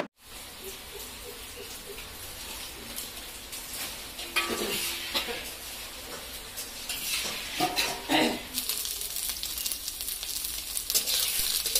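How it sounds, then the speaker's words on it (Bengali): Mixed vegetables cook in a pan at a Bengali family's Saraswati Puja feast, with steady sizzling and frying broken by clattering stirs and scrapes of a utensil against the pot, moderately close, with no talk. "আর এখানে এখন 5 মিশালি সবজি রান্না হচ্ছে।"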